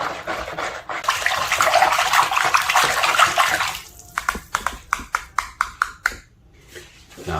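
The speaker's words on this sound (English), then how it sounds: "I'm going to take my whisk and I'm just going to carefully stir these ingredients together" A whisk stirs a crushed pineapple mixture, starting with a wet, sloshing churn and then breaking into a run of quick, evenly spaced taps and clicks close by.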